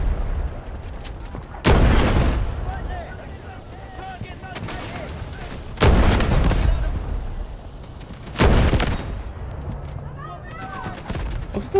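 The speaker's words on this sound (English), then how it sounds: "Shittiest coastal artillery of all time" Coastal artillery firing in the Delta Force Hawk Ops shooter, three loud booming shots spaced a few seconds apart, each with a rolling tail, while someone talks between them.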